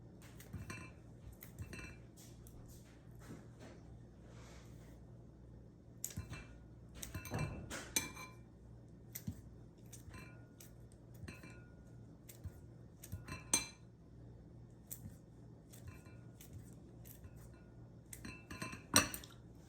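Browned, partly cooked sausages cut into pieces with a knife on a plate or board: faint, scattered clinks and taps of the blade against the surface, irregular and quiet over a low background hum, with no talk.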